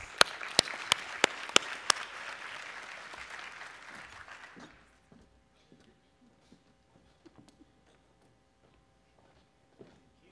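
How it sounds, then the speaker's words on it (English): Applause from an audience at a school conference fills the first few seconds with sharp claps on top, then fades into near silence broken by occasional small knocks. "we want to give them a round of applause"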